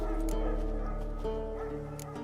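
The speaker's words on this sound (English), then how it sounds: "Wolves." Wolves in The Witcher 3 give short barking yelps and whines over a steady low game drone, close and fairly loud, with faint voices in the background.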